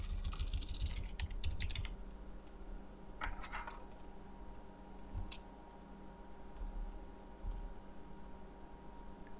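Faint clicking of a computer keyboard comes in quick bursts of keystrokes, a flurry at the start and shorter runs later, over quiet room hiss without speech.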